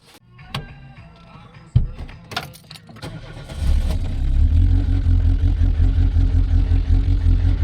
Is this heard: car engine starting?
yes